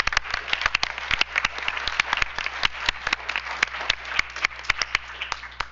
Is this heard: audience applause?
yes